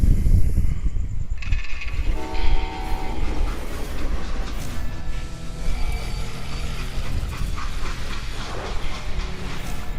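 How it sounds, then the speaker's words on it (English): A freight train in the video game Call of Juarez: Gunslinger rumbles along with a sustained horn blast and steady rolling clatter, fairly loud, with no voices. "So, I hopped the same train."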